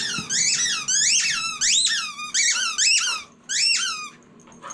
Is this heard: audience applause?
no